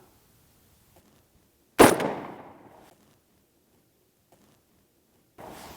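A single sharp rifle shot from a rifle fitted with a Velocity recoil-less bolt carrier cracks loud and close, followed by a decaying echo tail, with quiet clicks and a brief noise burst later.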